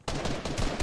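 Rapid bursts of gunfire in a Fortnite match, loud and continuous with close overlapping shots, the fire of several weapons blending together with no voices.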